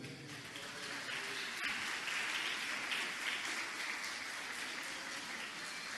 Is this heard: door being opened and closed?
no